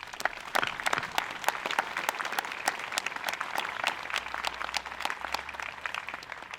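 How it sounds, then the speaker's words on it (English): An audience claps steadily at an outdoor Veterans' Day ceremony in Falmouth. Sharp, distinct hand claps carry through the whole stretch at moderate volume, with a light crowd murmur underneath. "give yourselves a hand of applause."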